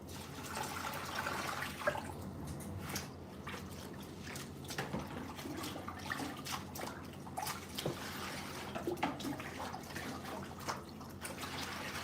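Running water splashes and trickles steadily over dreadlocks being rinsed, with soft drips and sloshing close by, continuous throughout with no talking.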